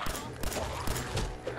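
Gunfire in Fallout 4 in the Glowing Sea comes as a short burst of several shots, close and fairly loud, with faint voice sounds underneath.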